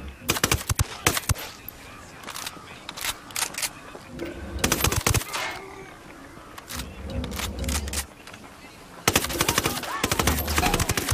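Gunfire in the tactical shooter Ghost Recon Wildlands, with sharp rapid bursts of automatic fire recurring in several loud clusters, separated by quieter stretches of single shots and background game noise, with voices heard faintly in between.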